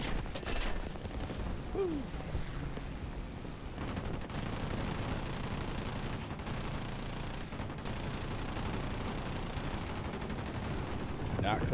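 Dense, continuous gunfire from the War Thunder video game rattles throughout, loud bursts layered over rumbling in-game battle noise, with a few brief drops in intensity.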